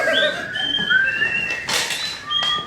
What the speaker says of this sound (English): The rest of the crew starts whistling.